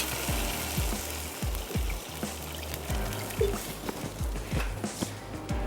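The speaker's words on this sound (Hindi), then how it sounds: "चलें इसमें पानी शामिल कर देते हैं।" Water poured into a cooking pot for lobia matar pulao, a steady close pour with sizzling and gurgling as it hits the hot pot, continuous throughout.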